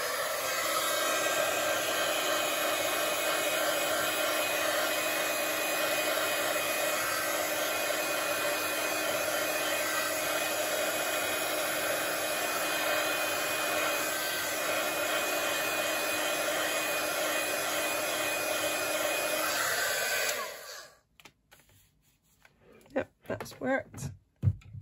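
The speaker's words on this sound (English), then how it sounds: "get my heat gun and give it a blast" A heat gun blows hot air over damp watercolour paper in a crafting setup, a steady, even whooshing roar that holds for about twenty seconds before cutting off, followed by a few soft handling sounds.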